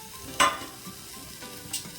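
Masoor dal ingredients are dry-roasting in a pan without oil, giving a faint, continuous sizzle with a couple of brief scraping stirs.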